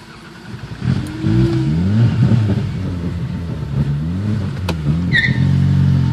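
A Toyota car engine runs and revs, its pitch rising and falling in several swells over a steady rumble, loud and close, with a brief clank partway through.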